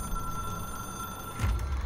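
An old-fashioned telephone bell rings in the video game Control, a steady electronic trill over a low ambient hum, with a brief louder thump near the end.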